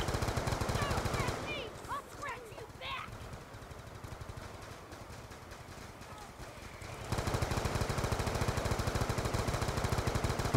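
Rapid bursts of automatic gunfire in Black Ops 2 Zombies crackle continuously, with a louder stretch toward the end, while voices talk intermittently over the shooting.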